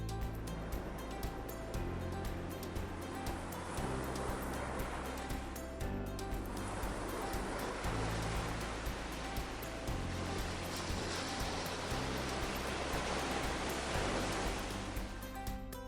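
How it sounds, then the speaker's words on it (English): Atlantic waves crash against the jagged cliffs of Malin Head, Ireland, as a constant broad surf roar. It sits beneath louder music that plays throughout. "Jagged cliffs drop into crashing waves"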